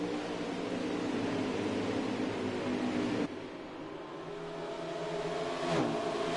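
Stock cars racing at Iowa in a racing video game, a steady loud engine drone holding high revs, then a sudden drop in pitch as the sound shifts, with a car whooshing past near the end.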